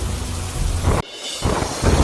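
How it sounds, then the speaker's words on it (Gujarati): Heavy monsoon rain pours in Bandra, Mumbai, with thunder rumbling; the loud, steady downpour drops out briefly at about one second, then the roaring rain and low rumble return. "ભારે વરસાદની વચ્ચે ટ્રાફિક જામની સમસ્યા વધી।"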